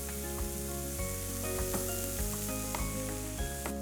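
Finely chopped cabbage, chilies and mint roast in a hot pan with a steady, close sizzle and crackle, interrupted by occasional soft stirring knocks.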